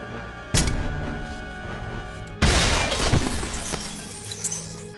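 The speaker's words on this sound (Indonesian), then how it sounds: "Ethan terpaksa harus menendang kaca itu hingga pecah." A glass pane kicked in until it shatters during a film action scene, with a sharp crash, then a second, louder burst of breaking glass and tinkling fragments over a rumbling, music-filled background.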